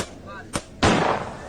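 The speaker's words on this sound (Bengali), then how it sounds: "পুরো পুরো মনে হচ্ছে আমার আসে এইদিকে এইদিকে বোম ফাটছে কেউ, মানে বোম মারছে কেউ, এরকম আওয়াজ আসছে" A sharp bomb-like blast in a meme, where a brief crack is followed by a loud broad roaring burst that fades slowly, with faint background noise before it.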